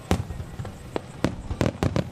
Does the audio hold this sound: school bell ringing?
no